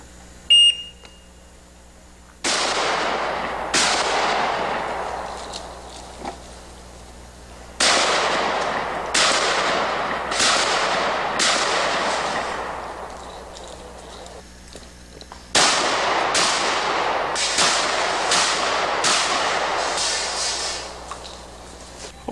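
Shotgun blasts at steel targets on a shooting-competition stage, coming in three rapid strings of sharp, ringing reports with short pauses between strings.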